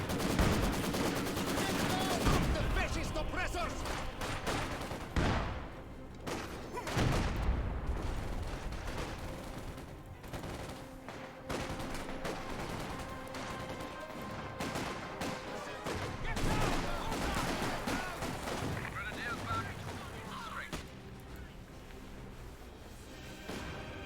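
A dense artillery barrage mixed with rapid gunfire and explosions in the video game Company of Heroes 2, loud and continuous, with heavy booms and crackling shots layered throughout and occasional brief pauses.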